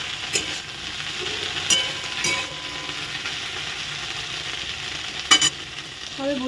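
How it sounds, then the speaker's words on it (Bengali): Okra frying in a pan gives a steady bright sizzle, with a few sharp clicks and scrapes of stirring, close by and without talking. "আর ভেন্ডি ভাজাটা সবেই বসিয়েছি।"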